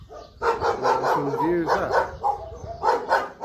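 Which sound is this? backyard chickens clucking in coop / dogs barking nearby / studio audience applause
dogs barking nearby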